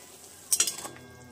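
A vegetarian dish made from plain flour being stirred in a pan, heard as one short burst of scraping and clinking against the metal amid faint sizzling.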